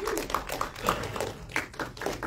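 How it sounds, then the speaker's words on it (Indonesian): A handful of people clap at a Jakarta film press conference, with scattered uneven claps in quick bursts, close and moderately loud, mixed with a voice speaking briefly over them. "Tepuk tangan dong teman-teman."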